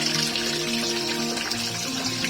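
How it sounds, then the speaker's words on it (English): Hot water pouring steadily into a Kobia baby spa bathtub, a continuous close splashing rush with no pauses. "Hot water."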